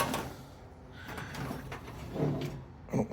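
A panel is eased open on a nearly 100-year-old car with a flathead four-cylinder engine, giving soft creaks, rubbing and a final light clunk. Close but quiet, with no voices.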